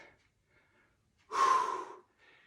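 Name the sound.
deep breath in during exercise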